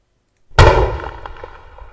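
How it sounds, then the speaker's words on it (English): A layered deck gun blast built for a video game: one sudden, loud broadband boom that hits hard and then decays into a rumbling, crackling tail with scattered small pops and no talking. "we have series of different sounds that all go together to make the sounds that we're using for the deck gun"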